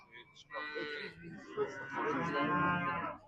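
A cow at a livestock market in Kyrgyzstan moos in two long, loud, close calls, the second swelling and holding before it fades.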